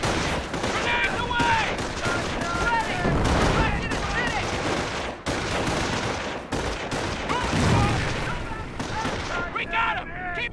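Dense gunfire and grenade blasts from a Company of Heroes battle defending Omaha: rapid rifle and machine-gun volleys crackle continuously, broken by heavy explosive thumps, while soldiers' voices shout over the chaos.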